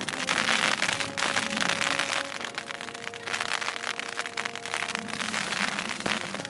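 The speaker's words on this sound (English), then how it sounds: "Wind's changing direction. It was hitting the tent from the back. Now it's hitting it this way on." Strong winter wind buffets a tent in gusty, sustained roaring bursts with crackling flaps of fabric, loud and close throughout, with a faint steady hum underneath.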